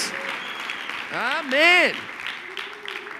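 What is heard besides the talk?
congregation applause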